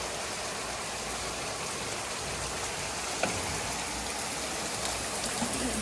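Rainwater streaming steadily past a door during a downpour, a continuous close wash of running water and patter with a faint knock partway through.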